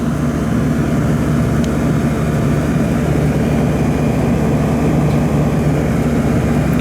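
A Goodman air-conditioner condenser unit runs hard in 100-degree heat, a steady close drone with strong low hum and fan whoosh, unbroken and alone.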